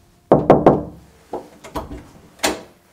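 Knocks on the bathroom door of an abandoned house near Tokyo: three quick raps, then a few more spaced ones, close and sharp in a quiet room.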